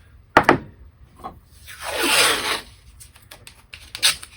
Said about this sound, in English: So we're going to tape this portion of it